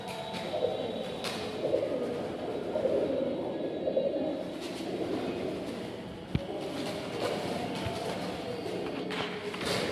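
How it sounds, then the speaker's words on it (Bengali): Soft, low cooing of pigeons at an old church repeating under a busy outdoor background hum, with occasional faint clatters. "দেখুন কত পায়রা।"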